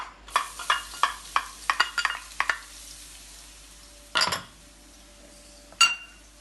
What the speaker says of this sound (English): scallion, our onion. We're just going to saute these a bit